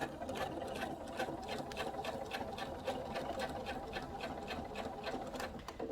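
An electric sewing machine stitches a quilted peg bag in one continuous run, its needle tapping in a fast, even rhythm over a steady motor hum, close and clear with no talk.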